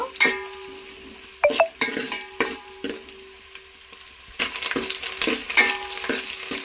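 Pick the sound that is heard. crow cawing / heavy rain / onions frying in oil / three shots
onions frying in oil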